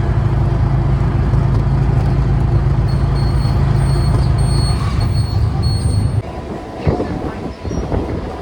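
A train rolls into Putlur railway station, loud and close, with a heavy steady rumble and rattle of wagons that drops off abruptly near the end, leaving lighter clanks and track noise.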